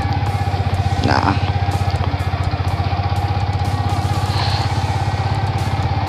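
A motorcycle engine idles steadily close by, a low continuous throb with a faint rattle, with a brief rise in pitch near the start.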